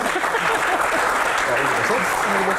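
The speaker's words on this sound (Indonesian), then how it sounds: "Tepuk tangan dulu." An audience at a Q&A session with a doctor claps, a loud, continuous, crowded patter of applause filling the room with no pause, likely with voices mixed in underneath.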